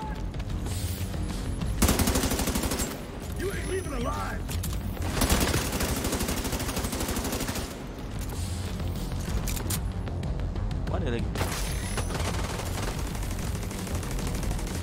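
Automated turret gunfire in The Division 2 video game, sustained machine-gun bursts and booming impacts filling the whole stretch, loud and continuous with brief surges, mixed with game effects and occasional voices.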